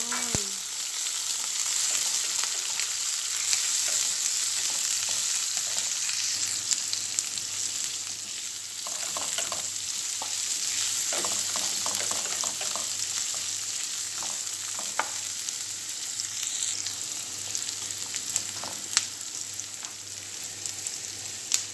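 Onions fry in a pan after golden garlic and are stirred, a steady, dense sizzle running throughout with scattered scraping and clinking from the stirring, close up and without speech.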